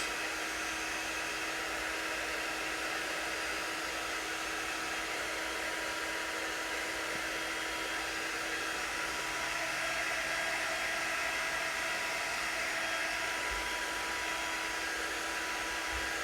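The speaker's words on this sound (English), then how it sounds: "I always go back and forth between my hair dryer and the drying tool that we have." A hair dryer or similar drying tool blowing continuously, a steady airy whoosh with a faint motor hum that holds even and close with no pauses.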